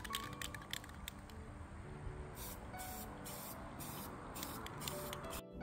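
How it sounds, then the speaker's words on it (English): A spray paint can sprays paint onto a lamp during a budget lamp makeover, giving steady hissing bursts that start and stop several times, close and fairly loud, with no talk. "when you're spray painting stuff, there is a technique to it"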